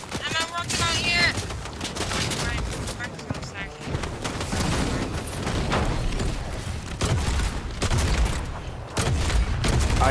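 Rifle gunfire in a Fortnite squad battle royale match, rapid bursts of sharp shots and booms mixed with game effects, heard under excited players' voices talking throughout.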